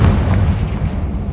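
A Confringo explosive spell blast in Hogwarts Legacy goes off as a loud, dense boom with a deep rumbling low end that holds steady for about a second before easing slightly.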